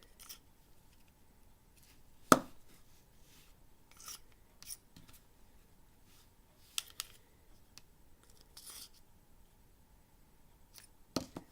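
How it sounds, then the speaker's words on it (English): A Kershaw Cryo knife is drawn through a sharpener attachment, giving sparse, quiet, scraping strokes with one sharp louder pass near the start and a few more later, separated by near silence. "show you how I sharpen a knife"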